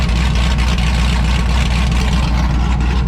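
Cammed 5.3 V8 truck running open headers at idle, a loud, deep, choppy rumble with an uneven lopey pulse, close and continuous.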